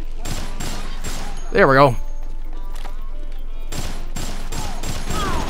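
Gunfire from the zombie game Dead Rising: repeated sharp broadband bursts in clusters at the start and again near the end, loud and close, with someone talking between them and a high whistling tone in the middle.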